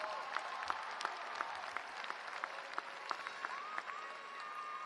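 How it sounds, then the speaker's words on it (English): Audience applause at a university undergraduate commencement ceremony, a steady, fairly distant patter of many hands clapping that holds evenly throughout. "give yourself a round of applause for the work you've done for these graduates"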